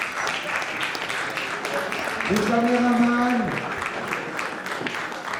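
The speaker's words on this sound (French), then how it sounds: "Donc veuillez les applaudir s'il vous plaît." An audience applauds at the Ciné-Mantes film festival, a steady wash of clapping that swells midway while an announcer speaks French over it.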